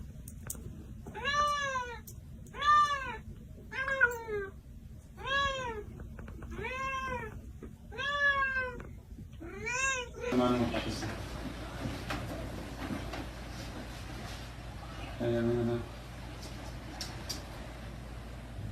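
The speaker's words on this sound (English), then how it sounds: "Every day, this cat brings a slipper to its owner." A house cat meows six times in a row, each call clear and close with a rising-falling shape, then quieter room noise follows with faint movement.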